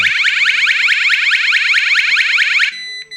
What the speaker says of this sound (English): Now that's a pretty loud alarm